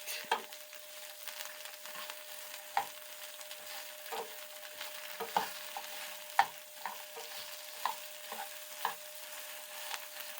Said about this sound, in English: Ain't nothing like a lot of fresh vegetables getting cooked.